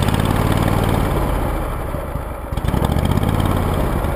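Snapper UGT2060H lawn tractor with wide turf tires, three-point hitch and loader runs outdoors, its engine holding a loud, steady close idle with a brief dip before picking back up, no talking.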